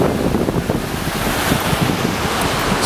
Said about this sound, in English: Fantastic little waterfall.